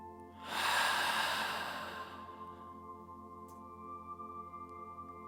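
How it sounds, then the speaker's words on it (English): One long, deep inhale during a guided meditation rises and fades over a couple of seconds, followed by a soft, sustained drone of background music. "take 3 deep, cleansing, and nourishing breaths"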